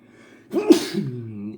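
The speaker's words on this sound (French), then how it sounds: "Bon, j'ai pas le Covid, c'est ce que j'ai éternué." A single person sneezes close to the microphone, with a quick sharp intake and a forceful burst followed by a short trailing exhale.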